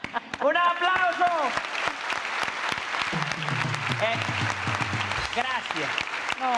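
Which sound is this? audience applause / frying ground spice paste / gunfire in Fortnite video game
audience applause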